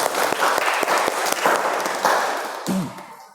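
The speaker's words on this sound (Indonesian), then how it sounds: "Terima kasih, aplaus untuk kalian semua." A classroom of students breaks into lively applause, with dense clapping close by that holds steady and then fades out over the final second.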